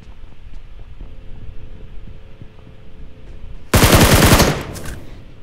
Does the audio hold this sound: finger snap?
no